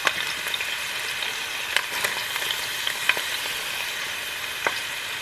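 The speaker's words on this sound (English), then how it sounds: "Throw in some onion." Onion frying in a pan as shrimp fried rice is prepared makes a loud, continuous sizzle and crackle with scattered sharp pops and a few spoon scrapes, with no one speaking.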